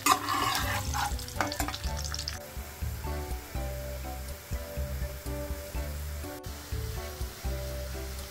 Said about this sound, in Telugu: ఒకసారి కాకరకాయ ముక్కల్ని టాన్ చేసుకుంటూ కలర్ వచ్చిన దాకా వేయించుకోవాలి.